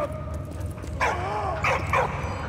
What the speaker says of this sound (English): how the hell did the dog get in here?